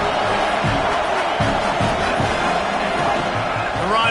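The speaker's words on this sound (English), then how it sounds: "Man, this crowd really affecting the football game." Home crowd roaring throughout a Penn State football game, a dense continuous wall of stadium noise with swelling shouts and bursts, loud and unbroken.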